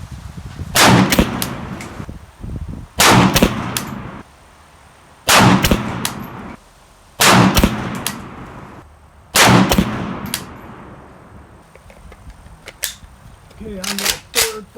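A Palmetto State Armory AK-P pistol in 7.62x39 fires a five-shot group, five loud, sharp reports at roughly two-second intervals, each ringing briefly before a quiet gap, with a faint clatter at the end.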